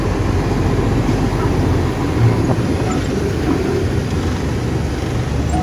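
A truck with a trailer reverses, its engine giving a loud, continuous low rumble and drone held steady from start to finish, with no talk over it.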